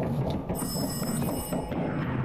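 A telephone rings inside the horror game Total Chaos, a bright trilling bell that starts partway in and repeats with a low, murky ambience beneath it.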